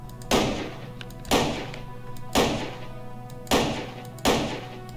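Heavy-bullet sniper rifle from a Minecraft gun mod, firing five loud, evenly spaced shots about one second apart, each a sharp boom with a short decaying tail over a steady low hum.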